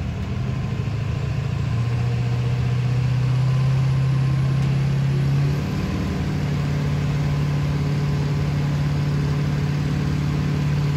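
A truck's engine holds a loud, steady drone during a truck drag race at an elimination event, the pitch stepping up partway through and carrying on strong to the end.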